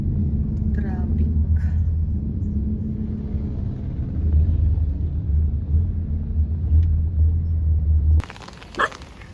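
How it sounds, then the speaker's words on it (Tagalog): Steady low road-traffic rumble with cars passing nearby on a wet street just after rain, continuous throughout, then cutting to a quieter scene near the end. "Traffic."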